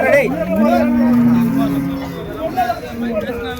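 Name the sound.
pair of bulls mooing at cattle market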